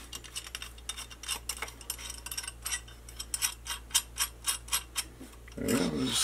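A tool handle is being unscrewed, producing a run of light rhythmic ratcheting clicks close by, fairly quiet, ending with a louder rustling scrape.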